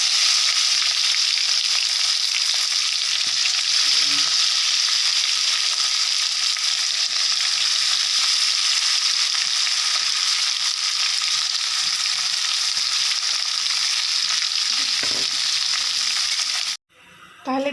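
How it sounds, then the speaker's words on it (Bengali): Jackfruit being sautéed in mustard oil for a Bengali prawn dish gives a loud, continuous close-up sizzle and hiss that holds steady throughout, with faint stirring scrapes, before cutting out abruptly near the end. "সর্ষের তেল, এখন হবে এঁচোড়টা সাঁতলানো।"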